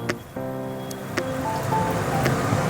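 More water poured into a pot of banana flower and rice, a rushing, splashing flow that swells and stays steady at close range, with a faint tonal hum in the background and no speech.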